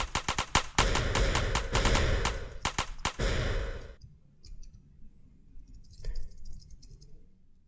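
Rapid bursts of video game shooting with small explosions as bullets strike enemies, loud and clustered for the first few seconds before thinning to faint scattered sounds.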